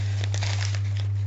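Quick crisp snips and crinkles of packaging being cut, close up, over a low steady electrical hum.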